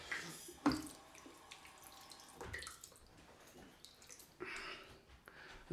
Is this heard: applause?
no